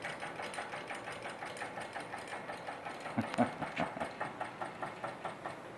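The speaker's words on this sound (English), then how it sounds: "you can just count on your automatic engine lift. Crank that thing up there for you on its own." An automatic engine lift motor in a welding shop cranks steadily, giving off a rhythmic, regular mechanical chugging with pulsing beats. A few louder clunks come near the middle, and no one speaks.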